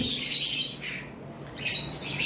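A cockatiel from a breeding pair lets out harsh, shrill squawks in short bursts, near and loud over a quiet background, with no talking.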